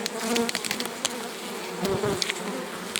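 Dense insect buzzing from many bees, steady and close, with sharper flyby whines rising and falling; no talking.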